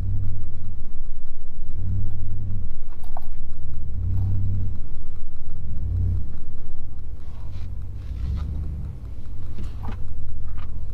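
A Dodge Ram 1500 Laramie pickup crawls off road through a ditch in high-range auto four-wheel drive, its engine rumbling low and steady with surges of revving, close and loud.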